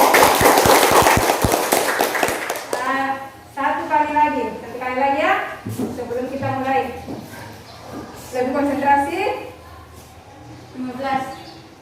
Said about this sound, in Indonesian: Kita beri tepuk tangan untuk Riel.